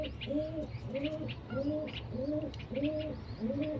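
Pigeons coo in a steady series of low, rolling calls, about six repeated phrases at an even rhythm, close by, with faint chirps and background noise.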